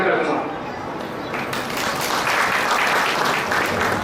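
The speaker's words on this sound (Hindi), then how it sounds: "जोरदार तालियां हो जाए ऊपर से लिए, जोरदार तालियां" An audience at a business seminar breaks into loud, sustained clapping that swells and keeps going, with voices audible over the applause.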